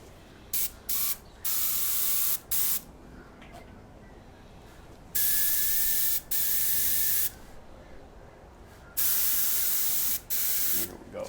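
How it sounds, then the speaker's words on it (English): Several bursts of hissing airbrush paint spray with a siphon cap, short and long, starting and stopping irregularly over a low background hum. "Hook that onto the airbrush."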